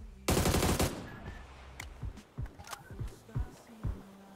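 Gunfire in PUBG: a loud, rapid automatic burst up close, then a scatter of sharper, fainter single shots and short bursts spaced out over the following seconds.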